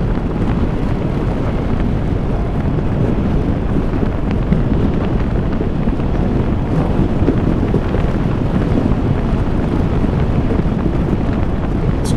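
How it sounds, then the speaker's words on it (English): Strong wind roars steadily over a scooter rider on a twisty stretch of old Route 66, a loud, constant low buffeting rush with no talk. "Wind is really pushing this thing around today, man."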